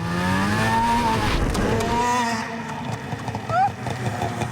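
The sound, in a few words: snowmobile engine revving at full throttle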